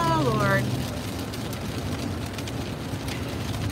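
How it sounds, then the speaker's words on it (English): Heavy rain pours down in Coney Island, Brooklyn, a dense, relentless hiss with steady patter, while a person talks briefly at the start. "as you probably can all hear, the rain is coming down."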